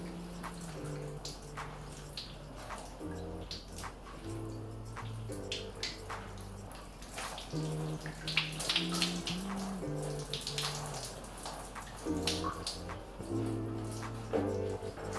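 Faucet water runs steadily while faux locs are rinsed on wash day, a continuous close splashing flow under a layer of soft musical tones, with no talking.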